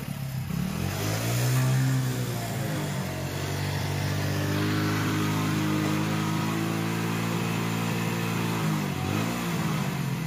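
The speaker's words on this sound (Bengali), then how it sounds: "দাদু রেস দিচ্ছে, তাড়াতাড়ি তাড়াতাড়ি তাড়াতাড়ি চলো, দাদু রেস দিচ্ছে।" A motorbike engine revs loudly and close for about ten seconds, holding a steady, throaty drone with one brief dip near the end.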